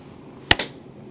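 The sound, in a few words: hand claps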